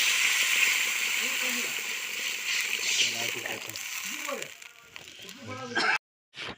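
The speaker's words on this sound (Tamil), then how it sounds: "தண்ணியை நம்ம கொஞ்சம் சேர்த்துக்கலாம்" Water splashes and sloshes into a cooking pan of tamarind mixture in an outdoor kitchen while a person talks over it. A hiss sits underneath, and the sound cuts off abruptly near the end.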